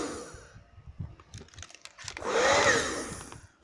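A hair dryer whooshes on for a couple of seconds as a heat source near a fan, a rising broadband blow after some light handling clicks and rustles, fairly close.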